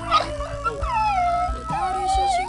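A stray puppy in the Eggy Party video game whimpers and howls in a drawn-out, wavering cry that slides up and down, heard close and alone over soft background game music.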